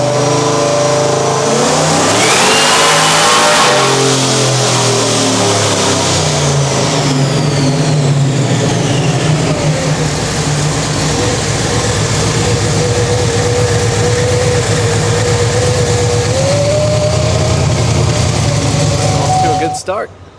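A 1,000+ whp Chevy Silverado pickup revs hard on a dyno in a shop, a loud, sustained engine roar that climbs in pitch and holds steady before cutting off abruptly at the end.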